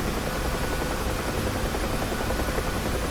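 In the DCS World flight simulator, a helicopter flies with a loud, constant rotor and engine drone filling the cockpit throughout, and no one speaks.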